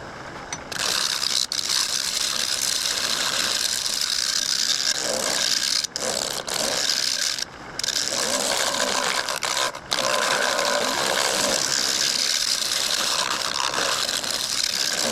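Negative rake carbide tool shaping Montana juniper wood, a steady close scraping and grinding drone with brief pauses and no speech.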